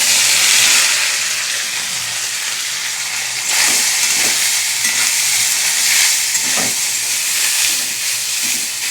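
Soybean chunks frying in hot oil in a home kitchen, a loud continuous close-up sizzle and hiss with a few soft stirring knocks partway through.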